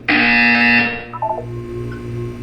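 A harsh, loud electronic buzzer in a Portal 2 test chamber sounds for nearly a second, then cuts off, followed by a few short quieter chime tones over faint background hum.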